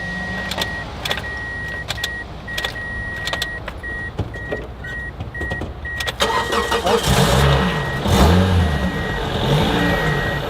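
A Nissan Micra sits with a dashboard warning chime pulsing in quick beeps, then the starter cranks and the engine catches into a loud, close, rumbling idle.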